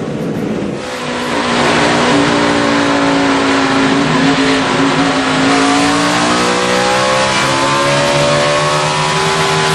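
A NASCAR stock car accelerating hard around the Watkins Glen road course in fog during a 2011 race, with a loud continuous engine roar climbing in pitch through the gears, close and dominant.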